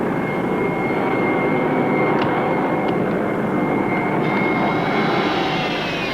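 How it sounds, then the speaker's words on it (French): A steady, loud airplane engine drone fills the whole stretch, with a constant whine over a broad roar and no voices. "C'est un avion étranger."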